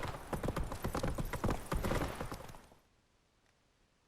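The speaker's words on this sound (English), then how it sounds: "when doing horse riding" Hooves clip-clop in a quick galloping rhythm as a horse is ridden in The Witcher 3, close and fairly loud, then fading out abruptly into near silence.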